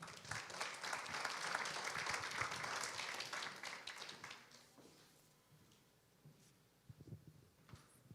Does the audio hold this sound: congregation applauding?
yes